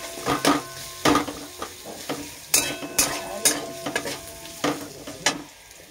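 Onions frying in a pan and stirred with a utensil, giving repeated sharp scraping knocks about every half second over a steady close sizzle, with no talking.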